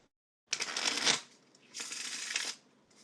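A deck of playing cards riffle-shuffled up close, two crisp rapid bursts of fluttering card clicks separated by a short pause, alone and quiet, with no talking.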